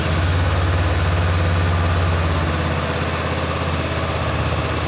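A nearly new 2023 Honda CB500F motorcycle with about 180 km on it idles steadily, a loud, close, continuous low engine rumble with no talking over it.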